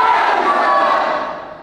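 A large crowd gathered around Bhojpuri superstar Pawan Singh lets out a loud, sustained roar of cheering and shouting that tapers off slightly at the end.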